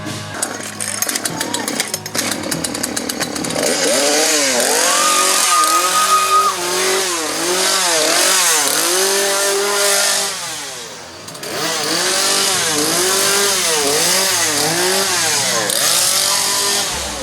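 A loud chainsaw revs up and down in repeated rising and falling bursts, with a harsh buzzing engine tone throughout.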